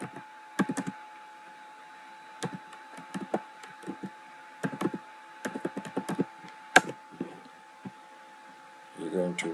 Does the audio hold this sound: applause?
no